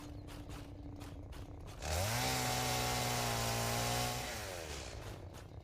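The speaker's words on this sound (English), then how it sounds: "Can you guys hear the chainsaw, by the way, in stream?" A chainsaw in the video game Satisfactory revs up sharply and runs at a loud, steady buzzing pitch for about two seconds, then drops back to a quieter idle.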